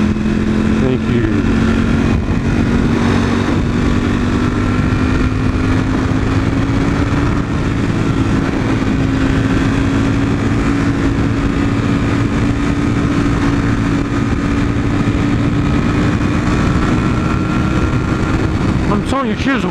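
A motorcycle ridden at speed, its engine a loud, constant drone climbing gradually in pitch with heavy wind rush, close and continuous throughout.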